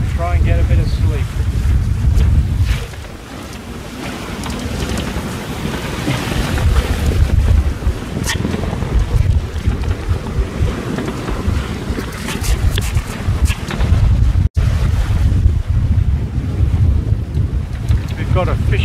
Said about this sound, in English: Quite breezy at the moment.